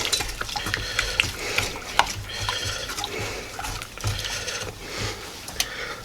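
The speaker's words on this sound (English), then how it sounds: "We're going to slowly pour in the milk. About half of it in there at first. Get it mixed in." Milk is poured slowly into a creamed peas and mushroom sauce and stirred, with soft liquid sloshes and light utensil clinks against the pan at close range.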